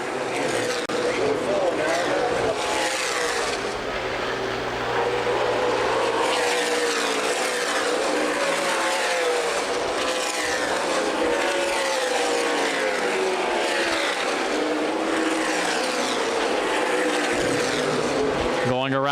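Stock cars in the 2011 CRA Super Series 100 at Winchester Speedway, a continuous loud roar of engines with pitch sweeping as cars pass, mixed with crowd and track ambience.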